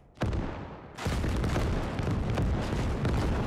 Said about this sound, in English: BM-21 grad salvo. Look at the rockets.